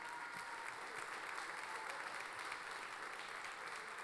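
An audience at a tango show applauds a pianist, a dense even wash of clapping heard at a distance and held steady throughout at moderate volume.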